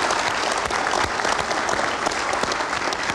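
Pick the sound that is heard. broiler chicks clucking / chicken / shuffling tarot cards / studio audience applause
studio audience applause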